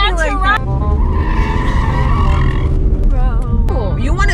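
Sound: Ford Mustang car turning corners hard, tires skidding

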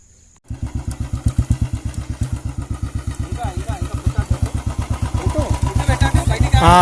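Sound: motorcycle engine during clutch and throttle control practice

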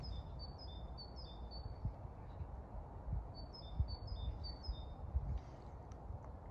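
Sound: tit bird singing in frosty weather

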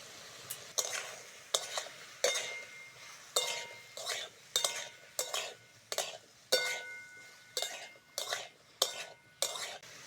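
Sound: onion, tomato and ginger-garlic paste frying in a pan

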